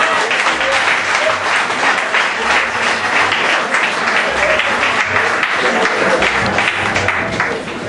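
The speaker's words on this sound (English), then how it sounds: "Give him a better round of applause." Congregation applause at a Black History Month church service, sustained dense clapping throughout with a low voice or organ murmur underneath, steady and fairly loud.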